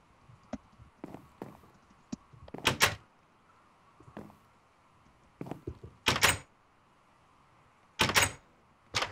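Minecraft doors opening and shutting in repeated wooden clunks, several sharp knocks scattered with pauses, some paired in quick succession, close and fairly loud over a faint hum.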